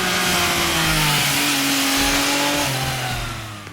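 A 2016 Yamaha XSR900 60th Anniversary's inline-three engine, fitted with a Scorpion slip-on exhaust, revs up loud and close, its tone climbing smoothly before easing off as the sound fades.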